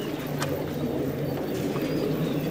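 Pigeons coo softly in a loft, a low murmuring drone of several birds under faint background noise, with a couple of brief higher sounds.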